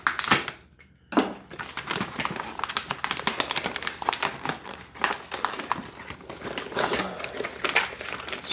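A Swedish Mora knife slices and tears open the plastic wrapping of an Italian 24-hour ration pack, close-up crinkling, scraping and sharp cutting strokes in a busy irregular rhythm after a brief pause.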